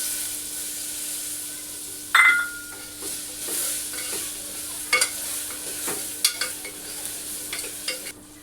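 Chopped tomato drops into a pan of spices and garam masala frying for khichdi, with a sharp burst of sizzle, then steady frying hiss broken by occasional clinks and scrapes of stirring.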